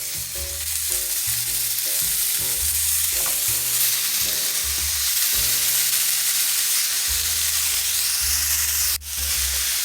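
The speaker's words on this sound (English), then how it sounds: "in your frying pan over medium-low heat, we're going to go ahead and add our ground beef" Ground beef fries in a pan over medium-low heat, a steady, dense sizzle and crackle throughout with a low background hum and a brief sharp knock near the end.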